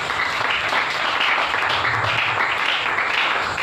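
A church congregation applauding the Lord during a prayer service: sustained, loud, dense clapping from a crowd with a slight rhythmic swell, continuing without a break.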